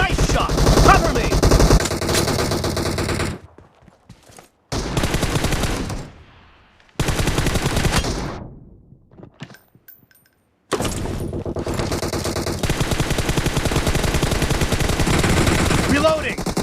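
PUBG game gunfire in a team deathmatch rattles in dense, loud automatic bursts, broken by several near-silent gaps before the heavy shooting resumes.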